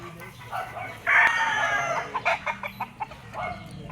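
Roosters at a backyard gamefowl breeder's yard in Lipa, including Kelso fighting cocks, crow over a steady farmyard hum, with one clear crow followed by a string of short clucks and calls.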